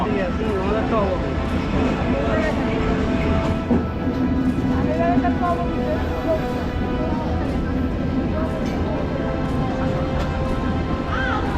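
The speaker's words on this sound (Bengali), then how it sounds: "আমাদের ট্রেন অলরেডি চলে এসেছে।" The Chitra Express stands at a railway station on the Jessore to Sirajganj route, giving a steady loud rumble and hum. Crows caw above a busy crowd, and a voice talks over it.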